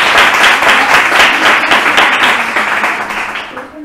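A theatre audience claps together in dense, steady applause that fades out toward the end, with no voices over it.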